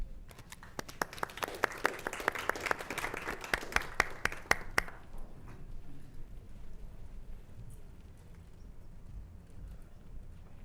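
An audience claps in a burst of applause welcoming a new Riley Center director, dense for about five seconds, then fading quickly to a quiet room murmur.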